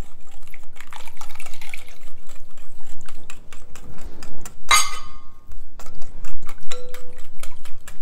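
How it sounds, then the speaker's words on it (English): Half a cup of white vinegar poured over copper pennies in a dish, giving a wet trickling and dripping that runs for several seconds, with one sharp clatter midway and a few light clinks after it. No one speaks. "Now I'm going to add our vinegar. This is 1/2 cup of white vinegar."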